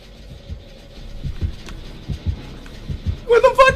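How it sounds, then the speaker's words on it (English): Low, steady heartbeat thumps pulse in a video game, a slow series of soft beats, before a sudden burst of other game sound at the end. "Heartbeat!"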